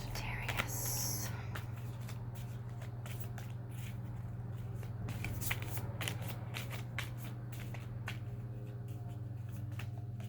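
Tarot cards shuffled by hand at a reading, a steady soft riffling and papery flutter with occasional sharper snaps, close and quiet over a constant low electrical hum.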